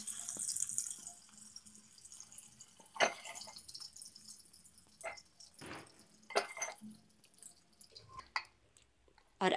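Pieces of fried paneer are dropped into a bowl of water, making faint, scattered soft splashes and drips in a quiet kitchen, with short pauses between the sounds.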